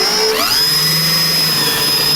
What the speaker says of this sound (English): our next two holes are going to be 1/4 inch. So we get our drill bit in here.